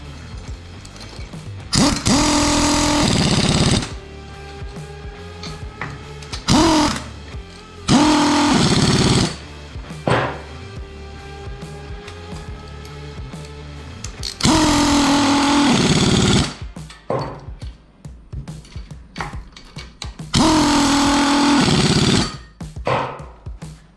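A power tool runs down the sprocket bolts on a 2021 Yamaha YFZ 450R ATV fitted with an O-ring chain, sounding as four loud, close bursts of rattling impact hammering separated by quieter pauses with faint shop noise.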